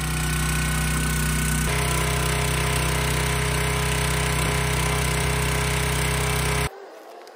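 A 25-ton log splitter works through tough, knotty cherry and hickory logs, its engine droning loud and steady at close range before cutting off abruptly near the end.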